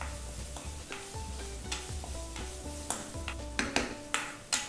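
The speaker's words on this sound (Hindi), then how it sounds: "दो मिनट तक आपने भूनना है प्याज डालने के बाद" Finely chopped large onion being lightly sautéed in a pan for dal, a soft continuous sizzle under irregular close scrapes and taps of a stirring spoon, growing sharper toward the end, without talk.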